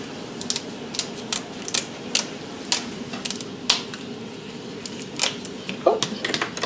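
Sharp, irregular crunching snaps as kitchen scissors cut and crack a lobster shell, close up, with short clicks scattered over a soft background.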